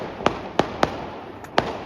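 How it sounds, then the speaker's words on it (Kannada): Firecrackers bursting in a residential neighbourhood to celebrate an India cricket win, four sharp loud bangs spaced irregularly about a third of a second apart, with a fainter pop between, heard from a short distance. "ಇಂಡಿಯಾ ವಿನ್ ಅದಕ್ಕೆ ನಮ್ಮ ಏರಿಯಾದಲ್ಲಿ ಫುಲ್ ಪಟಾಕಿ"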